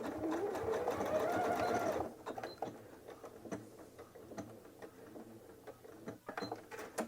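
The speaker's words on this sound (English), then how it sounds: "I'm going to remove it from the sewing machine" A sewing machine whirs steadily for about two seconds while backstitching a jelly roll rug, then stops, leaving scattered light clicks and taps of handling.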